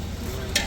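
Tempering for dal on a farm sizzles in a pan as a brief, continuous hot-oil hiss with a sudden bright burst near the end.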